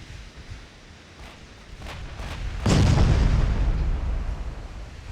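Naval guns firing in the Ultimate Admiral Dreadnoughts game: a few faint distant pops, then a heavy booming salvo that rolls on as a low, sustained rumble.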